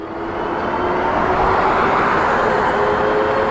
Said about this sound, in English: Full throttle, single motor on the rear.